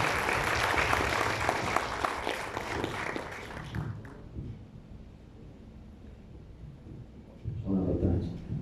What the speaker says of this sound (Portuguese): Vou pedir uma salva de palmas para a equipe também.